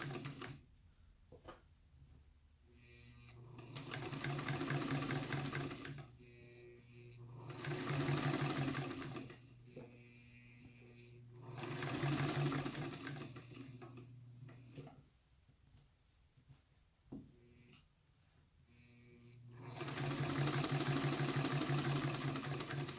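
A sewing machine runs a gathering stitch along a sleeve in several repeated bursts of rapid mechanical chattering, separated by short quiet pauses.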